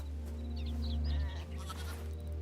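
Sheep bleat in the game Hytale, several wavering calls overlapping across the stretch over a steady low ambient drone, fairly close and moderately loud.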